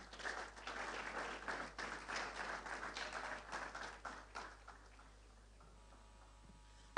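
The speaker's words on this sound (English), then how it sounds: "Please give them a round of applause." An audience at a business panel discussion on startup funding claps for the guests, a faint scattered patter that swells briefly and then dies away into near silence.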